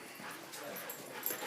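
A dog whimpers faintly before getting into a car, thin high whines and soft yips over quiet background, brief and low in level.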